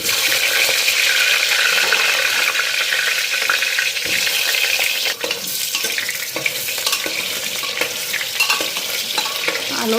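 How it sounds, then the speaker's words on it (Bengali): Potatoes frying and being stirred in a pan, a steady hissing sizzle with scraping and stirring strokes running throughout, close and loud with no talking. "আলুটা ভালো করে ফ্রাই করি"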